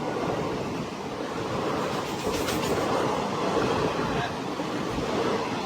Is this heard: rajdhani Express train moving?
yes